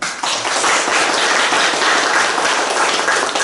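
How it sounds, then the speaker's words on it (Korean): A church congregation at a Sunday worship service applauds in a loud, steady wash of clapping that fills the room from start to finish, with no talking over it. "여러분 하나님 앞에 영광 박수 한번 칩시다."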